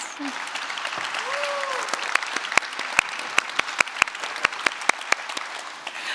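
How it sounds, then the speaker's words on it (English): Audience applause at a film industry pitch event fills the space as a steady crowd wash, with a few sharp, louder individual claps standing out near the end. "another round of applause for our first two projects, Spirit Moose and Burnout"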